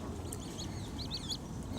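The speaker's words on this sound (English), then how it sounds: "The geese coming in now." Canada geese honk in short, repeated faint calls, heard at a distance over low outdoor rumble near an island where swans gather.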